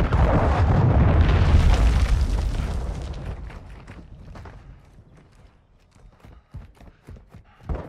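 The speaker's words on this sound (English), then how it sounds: "Friendly cruise missile approaching target." A cruise missile explosion in Call of Duty MWII opens as a loud, sustained roaring blast that slowly decays over several seconds, followed by scattered faint pops and impacts.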